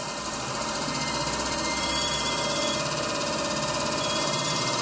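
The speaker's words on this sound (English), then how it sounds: "we're going to slowly ramp up the voltage until we get rotation" DC motor on a test bench spinning up as its supply voltage is slowly ramped from zero, a steady broadband mechanical hum and whir filling the clip at constant loudness with no talk.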